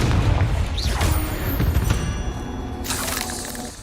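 Confringo fire-blast spell in the Hogwarts Legacy video game, a loud booming impact with a whooshing, rumbling crash that trails off over a few seconds, close and alone.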